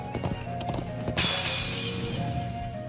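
Horse hooves clip-clop in the Trails of Cold Steel role-playing game, a steady light patter of steps, then a loud broadband hiss-like rush takes over midway and carries to the end.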